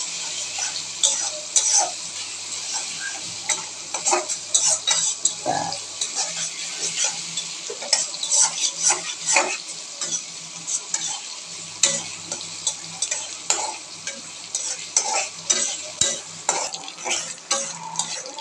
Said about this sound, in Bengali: এখানে ভালো করে নাড়াচাড়া করে নিচ্ছে, ভালো করে ভেজে নিচ্ছে তেল আর কাঁচামরিচ